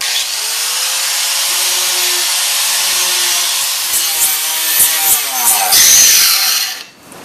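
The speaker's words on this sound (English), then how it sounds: "We're not trying to carve it here, we're just trying to sand it smooth, kind of polish it out." A Galahad CG sanding disc on an angle grinder sands and smooths a carved wood log, a loud, steady abrasive whine and rasp that holds throughout and winds down near the end.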